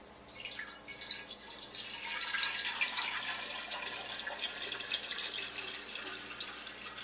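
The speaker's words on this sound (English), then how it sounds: "we're going to fill it up to the 3/4 mark that I put in there." Purified water is poured into a one-gallon jug up to a marked fill line, a steady hissing, splashing flow that swells and then holds at an even, close level without pause.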